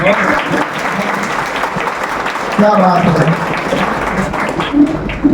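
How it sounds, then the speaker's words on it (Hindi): Crowd applause at a women's-safety event held by Uttar Pradesh police, steady and fairly loud throughout, with a voice speaking over the clapping. "मेरी तरफ से तालियां हैं इनको।"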